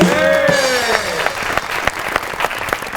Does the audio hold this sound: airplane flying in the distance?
no